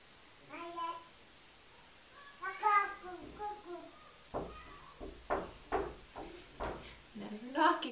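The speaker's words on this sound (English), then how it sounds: "Now you're knocking." A series of sharp knocks on a door at home, several irregular raps in the second half, with a voice babbling and calling nearby before and between them.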